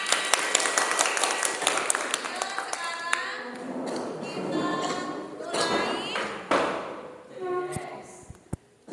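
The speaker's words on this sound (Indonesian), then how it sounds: "Oke, tepuk tangan." Class of young children clapping hands in an Indonesian classroom lesson: a burst of scattered, fairly loud claps and thumps at first, giving way to children's chatter and voices.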